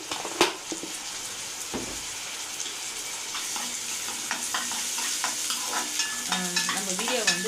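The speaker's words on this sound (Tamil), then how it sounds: "நல்லா வதங்கட்டும். நல்லா ப்ரௌன் ஆனால் தான் நல்லாயிருக்கும். நான் கொஞ்சமாக இஞ்சி பூண்டு பேஸ்ட் போட்டுக்கிறேன்." Ginger garlic paste fries and sizzles in a pan for a bread egg kothu, with steady frying hiss and repeated scraping stirs of a utensil against the pan, close and fairly quiet.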